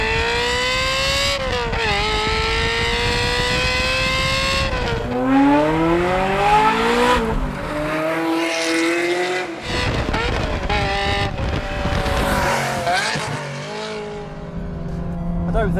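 A Ferrari F355 GTS with a Capristo level 2 exhaust revs hard, the engine climbing and dropping through repeated high-pitched wails and gear changes, loud and close with the top on.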